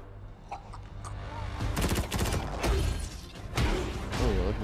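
Battle rifles fire in Halo Wars 2 as bursts of loud, close gunshots crack in clusters over about three seconds, set among game mechanisms and thuds, and no one talks.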